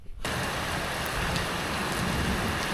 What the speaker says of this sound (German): kleines Gewitter